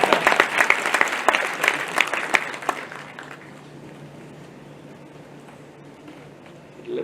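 An audience at a Gandhinagar government event launching digital revenue services claps loudly for about three seconds, then the applause thins and fades to a quiet murmuring room.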